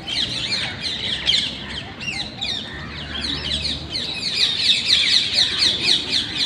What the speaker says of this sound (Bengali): দেখুন কত টিয়া পাখি আর পায়রা একসঙ্গে খাবার খাচ্ছে